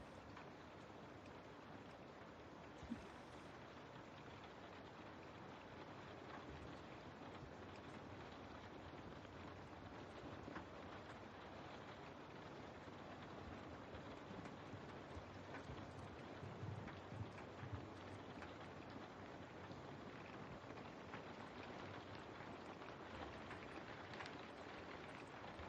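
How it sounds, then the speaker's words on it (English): Steady, soft rainfall with a constant hiss and patter, even and unbroken throughout, with no voices. "So I'll have that rain noise for those who are like studying"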